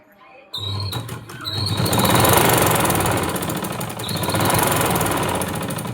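An electric sewing machine stitches a quilt made from an old velvet bedsheet, starting with a click and running as a loud, fast, steady mechanical whir and rattle, close up.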